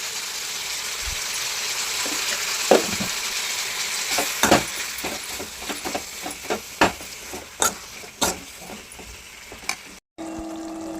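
Chopped vegetable pieces, salted, sizzle and fry in a pan for tomato chutney, with a steady hiss broken by sharp clinks and scrapes of stirring, then a brief cut near the end.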